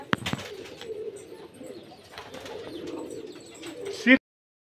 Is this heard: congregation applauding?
no